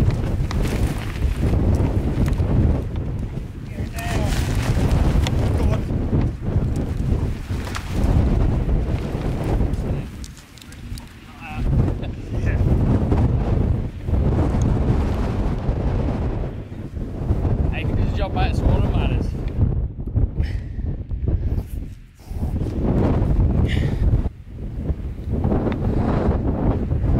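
Strong wind on a Peak District hillside buffeting the microphone in loud, gusty roaring bursts with short lulls throughout.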